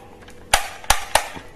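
Toy AK47 gun firing three sharp, snappy shots in quick succession, close and loud, each a brief crack over a quiet background.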